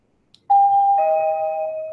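A wireless dinky doorbell, triggered by its remote, gives a faint click and then a loud, clear two-note electronic chime that sustains as it fades slightly.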